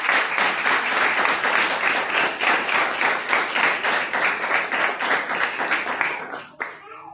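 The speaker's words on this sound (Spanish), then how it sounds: "Dale un fuerte aplauso" A church congregation applauds loudly and steadily for several seconds, a dense, rhythmic clatter of many hands that cuts off abruptly near the end.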